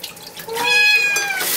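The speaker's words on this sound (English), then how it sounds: "rinse him off one more time." Running water rinsing a small kitten during a bath in a sink, a loud steady stream that swells after a brief start, with the kitten's high meow rising over it.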